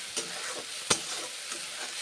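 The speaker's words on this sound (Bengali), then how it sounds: "পেঁয়াজ বেটেছি কাঁচা লঙ্কা বেটেছি কষে নিচ্ছি মশলা" Ground onion and green chili masala frying in mustard oil in a pan, a continuous close sizzle broken by a few sharp scraping stirs, with no voices.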